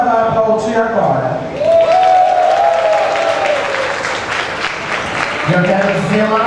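Audience applause and cheering at a drag show in a Brazilian club, rising as a loud crowd wash under a voice talking over it, with the speaker's voice also prominent at the start and end.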